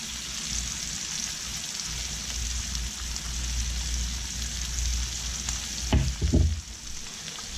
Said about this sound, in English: So put it into the hot butter, and we're going to let it cook for about a minute